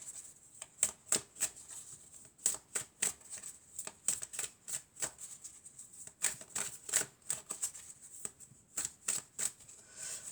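Tarot cards riffled and handled at close range, with repeated crisp flurries of shuffling and brief pauses between bursts, no voices.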